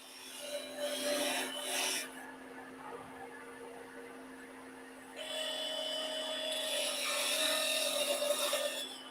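A 1/8 inch parting tool cuts into wood spinning on a lathe with a steady, close rasping hiss under a constant motor hum, pausing briefly partway before resuming, brighter and louder.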